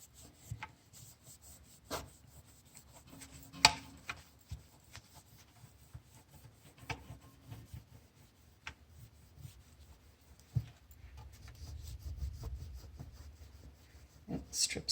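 Polishing gel rubbed over a brass piece by hand, giving soft, quiet scrubbing strokes with a few light taps and a brief rougher rubbing burst near the end, close up and without talking.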